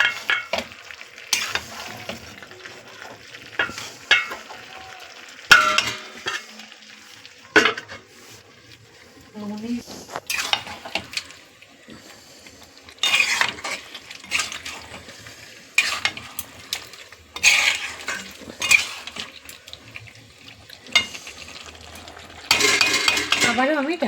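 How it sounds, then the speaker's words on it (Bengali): Cauliflower curry being stirred in a pan on the stove, a utensil scraping and clattering against the metal in uneven bursts over a steady sizzle of frying, with brief pauses between strokes. "ঢাকাটা খুলে আমি ভালো করে মিশিয়ে দিলাম"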